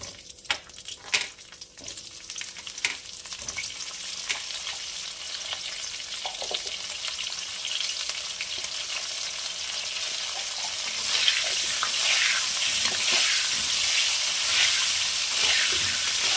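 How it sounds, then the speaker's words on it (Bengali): Cut cauliflower frying in a pan for Bengali vegetable khichuri: a steady, close oil sizzle with a few clattering stirs early on, swelling louder and hissier in the final seconds. "ফুলকপিটাকে একটু লাল করে ভাজবো"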